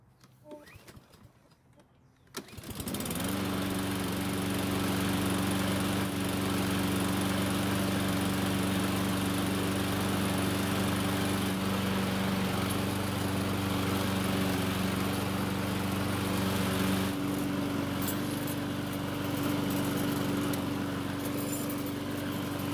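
A Husqvarna lawn mower engine catches after a quiet moment and settles into a loud, steady running drone, close by, with birds cooing faintly in the background.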